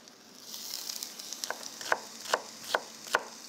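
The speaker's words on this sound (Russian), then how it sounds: "для баранины в сковородку." Onions sizzle quietly in a frying pan while a utensil scrapes and stirs in a few evenly spaced strokes near the end.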